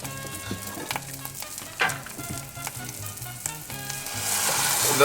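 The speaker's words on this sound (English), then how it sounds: "You're gonna saute the onions, and then you're ready for the final step" Onions sautéing in a pan give a continuous close sizzle and crackle, with the scrape and clatter of stirring, while a low steady hum runs beneath and the frying swells louder at the end.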